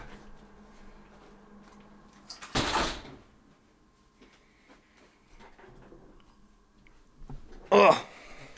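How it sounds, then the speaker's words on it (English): Bedroom door pushed shut in a chilly room, a loud broadband thud near the middle followed by a second sharp bang near the end, with quiet room tone between. "I need to shut my door."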